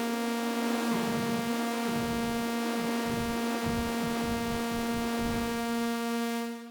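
Reverb effect whose room size is changed while the sound plays: a dense, steady hum with strong tonal overtones and a shifting, throbbing wash underneath, loud and continuous until a brief fade at the end.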